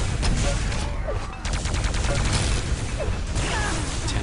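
Dense, loud gunfire from a Quake arena match, with rail shots and rapid weapon fire overlapping continuously. Frenetic game sound effects fill the whole stretch.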